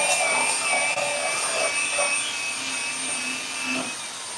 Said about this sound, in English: Here we're grinding away. Gonna grind away